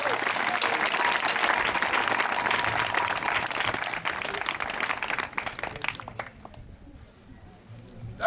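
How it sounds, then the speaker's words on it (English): Audience applause at a senior high school SRC week celebration in Ghana, a loud sustained burst of clapping from a large crowd that tapers off after about six seconds, leaving quieter scattered claps and murmurs. "Give him a round of applause."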